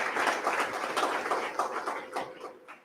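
A church congregation at a Sunday service claps together, a steady wash of many hands at moderate distance, fairly even and brief.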